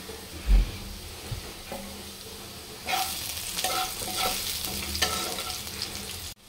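Onions fry in a pan and are stirred, a soft sizzle broken by scraping stir strokes that grow louder and busier in the second half, with no voices.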